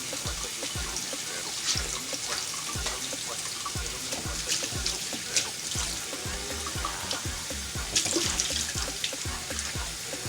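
Hot water pours and splashes steadily into a pot, with a continuous wet hiss and small gurgles, close by and without speech.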